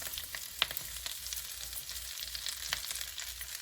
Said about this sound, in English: Oil is hot now. I'm going to add mint leaves